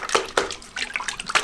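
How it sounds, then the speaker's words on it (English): Water is thrown against a brick block wall to soak it before plastering, several sharp splashes landing in quick irregular bursts, close and fairly loud, with no voices. "So I'm going to soak the wall with some water."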